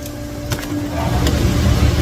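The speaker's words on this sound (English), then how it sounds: "This has an exhaust fan. Let me turn it on." An exhaust fan switched on in an engine workshop during a valve job, a steady broadband whir with a low hum that swells slightly and holds constant, with a couple of faint clicks near the start.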